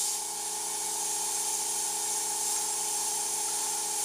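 Steady airbrush hiss spraying paint freehand, a continuous close airy spray with a faint compressor-like hum underneath, holding even for about four seconds with no talk.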